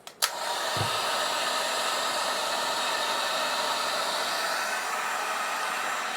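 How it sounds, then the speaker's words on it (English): A 1,200-watt heat gun powered through a 24-volt pure sine wave inverter switches on after a small click and blows a loud, steady airy roar without a break. "Heat gun."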